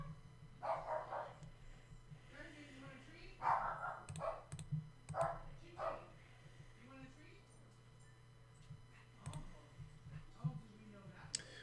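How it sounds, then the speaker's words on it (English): Several dogs barking in short irregular bursts at mid distance behind near-constant talking, with a steady low electrical hum running underneath throughout. "the dogs are going crazy"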